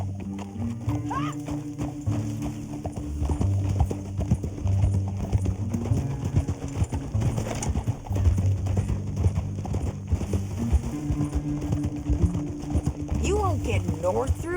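Horse hooves clip-clop steadily and close in Red Dead Redemption 2, a continuous trotting rhythm running through the whole stretch under game music and a little spoken dialogue.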